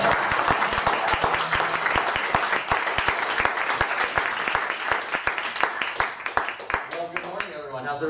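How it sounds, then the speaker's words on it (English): Audience at a SendOutCards Super Saturday event gives a loud, sustained round of applause and cheering, dense clapping running for several seconds before thinning out as a voice begins to speak at the end. "So, you guys, huge round of applause."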